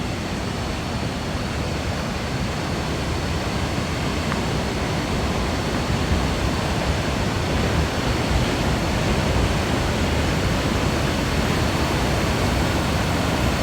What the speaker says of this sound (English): So this is Khlong Phlu Waterfall.